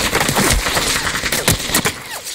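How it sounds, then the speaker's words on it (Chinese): Rapid bursts of gunfire in a video game, dense and sharp with a few louder shots standing out, continuous through the moment. "你都听到枪声吗？"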